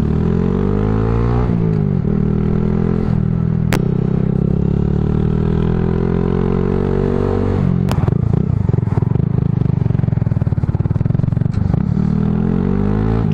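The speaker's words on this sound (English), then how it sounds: "Hopefully you got a good idea of what this exhaust sounds like." A Honda Grom MSX125 motorcycle fitted with a cheap $99 aftermarket exhaust revs and rumbles loudly up close, its throaty note rising and falling through several throttle blips with some clatter, and no talking.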